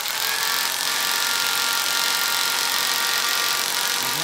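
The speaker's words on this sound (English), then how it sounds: "Blower's on too." An autoclave boiler blower runs steadily with a loud, continuous broadband rush that holds constant from start to finish, with no talking.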